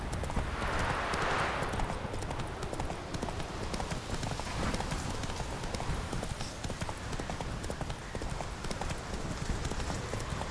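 Roach, the horse in The Witcher video game, trots with steady, rhythmic clip-clopping hooves throughout, loud and close over a constant outdoor ambience.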